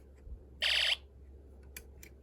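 A loud electronic alarm tone from a toy snap-circuit kit speaker, powered by a capacitor, blares once for about a third of a second, harsh and buzzy, then cuts off into a quiet background with faint clicks.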